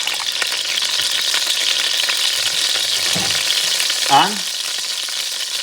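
Annatto oil sizzling in a hot pan on the stove, a steady close frying hiss throughout with a brief spoken word and a short stirring scrape near the end.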